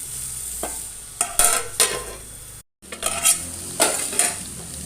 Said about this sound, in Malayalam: നല്ലതുപോലെ ഒന്ന് മിക്സ് ചെയ്ത് അടച്ച് വെച്ച് വേവിച്ചെടുക്കാം.